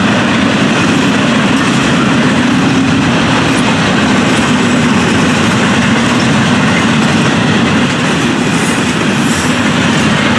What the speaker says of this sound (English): Double stacks on the head end. Rattling on by us.